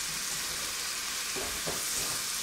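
A beef fillet for beef Wellington sears in a hot pan with a steady, close hiss of sizzling fat, swelling briefly twice toward the end, with no voices.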